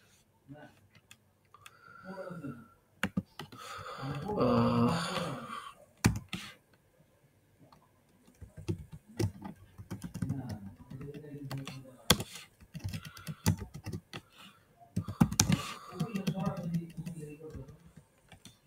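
Rapid clicking keystrokes on a computer keyboard come in irregular bursts while code is typed, close and fairly crisp, with someone speaking between and over the typing.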